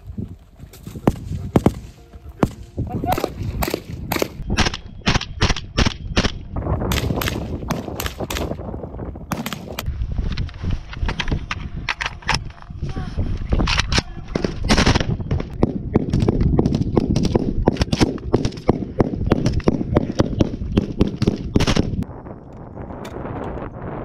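Rapid rifle shots during sniper training of an airborne reconnaissance battalion, sharp cracks in dense irregular bursts with echoing tails, loud and outdoors, continuing for most of the stretch before tapering off.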